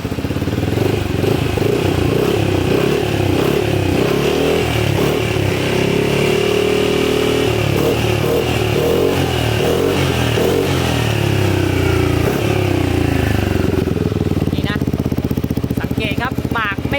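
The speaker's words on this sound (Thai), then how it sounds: "เดี๋ยวมาดูเสียงหลังจากที่ทำท่อเสร็จนะ อ่าลองเบิ้ลหน่อย" A Yamaha XMAX 300 scooter fitted with an aftermarket titanium exhaust muffler revs up close and loud, its engine rising and falling in steady bursts while voices talk over it.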